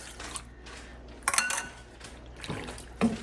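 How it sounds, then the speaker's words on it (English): Starchy pasta water is poured into a pan of pasta with lemon and artichoke, making soft trickling and splashing in brief bursts, with small clinks of cookware close by and no voices. "I'll put just a little bit of pasta water."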